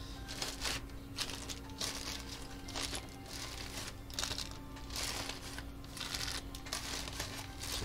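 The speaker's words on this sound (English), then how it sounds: "even bigger plastic bag." Large plastic bag being crinkled and handled, bursts of crackling rustle coming in irregular handfuls close by, with a low steady hum underneath and no talk.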